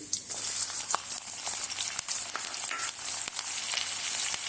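A medium onion frying in hot oil with curry leaves and a bay leaf, a steady close sizzle with scattered pops and crackles, running on its own.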